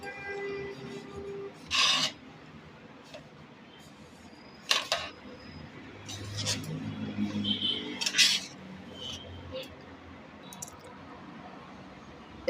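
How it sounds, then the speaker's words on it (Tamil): Corn semolina (rava) being dry roasted in a pan, heard as a few scraping rasps of a spatula against the metal with quiet gaps between them and faint background noise. "நல்ல ரவை சூடாக வரைக்கும் வறுத்து எடுத்துக்கலாம்"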